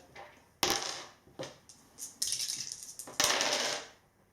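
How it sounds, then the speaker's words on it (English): Dice rolled for an injury roll in a tabletop wargame, Astra Militarum against Death Guard: several sharp clattering bursts of dice tumbling onto a hard surface, fairly close, with brief pauses between rolls and no talk. "Okay, so 3 dice on the injury roll, 5, 6 on any of them"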